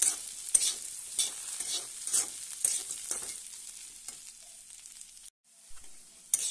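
Maggi noodles fry in a pan, coloured with a little added colouring, while being stirred: a soft hiss with intermittent scraping strokes, fairly quiet and close, briefly dropping out near the end.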